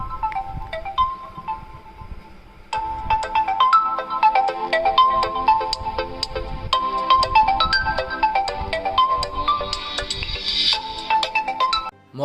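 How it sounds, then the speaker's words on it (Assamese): A melodic ringtone plays through the speaker of a Realme C35 phone, a bright repeating tune of quick notes, loud and close, starting softly then filling the rest of the clip with no talk. "ইয়াতে মই স্পিকাৰ চেক কৰাৰ কাৰণে এটা ৰিংটোন বজাম আৰু আপোনালোকে শুনিব।"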